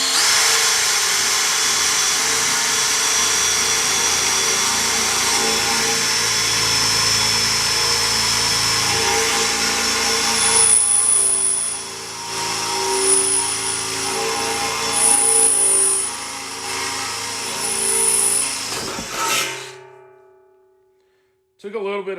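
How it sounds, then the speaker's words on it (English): A DeWalt Black and Gold drill bit bores through a workpiece on a shop bench, a loud, sustained whirring drone that wavers with effort for about twenty seconds before spinning down and stopping. "we'll go with the DeWalt Black and Gold on this."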